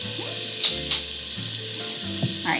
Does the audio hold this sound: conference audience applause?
no